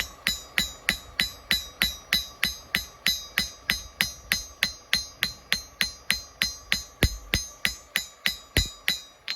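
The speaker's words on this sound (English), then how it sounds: "rounding hammer again just to pull that blade down" A rounding hammer strikes a spring steel knife blade on an anvil during forging, about thirty crisp, ringing metallic blows in a steady, fast rhythm, close and loud, with no talk.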